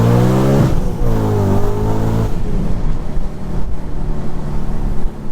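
An Audi RS4 B7 V8 revs close to 8,000 RPM, the loud engine note climbing through rising harmonics across two pulls, then dropping to a rougher, lower rumble as it settles.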